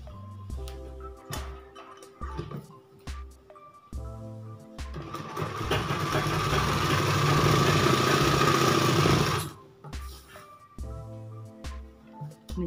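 A sewing machine stitches the folded hem of a girl's skirt with a loud, steady whirring run of several seconds, set between shorter intermittent mechanical clatter.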